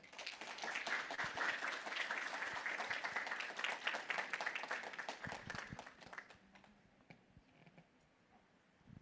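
Audience applause after a keynote at a leadership conference, a dense sustained clapping from a large crowd for about six seconds before thinning out to scattered claps and a quieter room.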